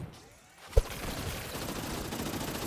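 Minigunner towers in Tower Defense Simulator firing at a tank, a dense continuous rattle of rapid game gunfire that begins after a quiet moment and a single sharp thud, steady and full to the end.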